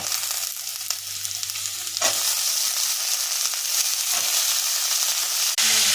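Chopped potatoes hit hot oil with browned onions and set off a loud, steady sizzle. A sharp burst of frying marks the moment they drop in, and stirring scrapes can be heard under it.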